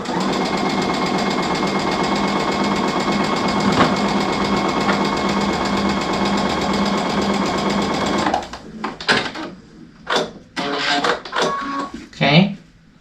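A sewing machine stitches a quilt block seam for an Ohio Star block, running steadily and loudly for about eight seconds before stopping, followed by a few short bursts of handling noise and a voice.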